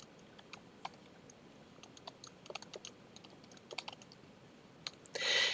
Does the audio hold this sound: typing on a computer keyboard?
yes